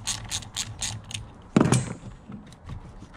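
A wrench loosening a bolt on a Vauxhall Astra H VXR during parts fitting, a short series of ratcheting clicks followed by one louder metallic clatter, close up with no talk.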